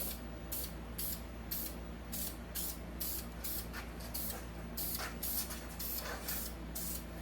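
Aerosol spray paint goes onto brake drums in a series of quick, regular hissing bursts, each lasting about half a second, fairly close and alone.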